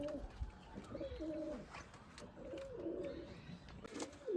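Pigeons kept at a home loft, Andhar and old-line Giribaz breeds, coo in soft, low, overlapping murmurs, faint and steady, with a few light knocks.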